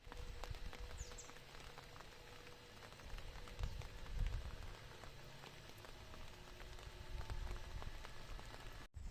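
Outdoor rain falling at a family outing spot, a soft, even patter on surfaces continuing throughout at a moderate distance, with occasional faint knocks and no speech.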